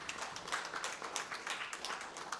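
Audience clapping for panel speakers at an automotive manufacturing conference, a moderate, fairly thin patter of hands with individual claps standing out, steady throughout and heard from some distance in the hall.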